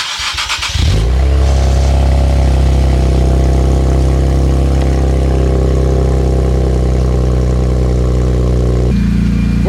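An Infiniti Q60 fires up from cold with a sharp start burst, then settles into a loud, steady idle with a deep, even rumble that holds close and unbroken, with a brief shift near the end.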